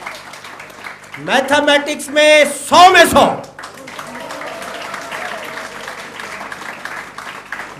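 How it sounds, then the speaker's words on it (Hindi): An audience at a 12th class student award ceremony applauds, a dense burst of clapping under an amplified announcer's voice. The clapping fades into quieter hall ambience as he keeps talking. "जोरदार तालियों से स्वागत करें।"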